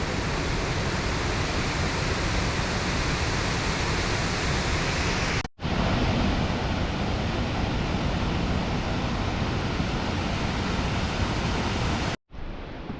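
The Seven Sisters waterfall on the Kopka River in Wabakimi roars as a loud, unbroken wash of rushing water, steady and close, cut off by two brief silences.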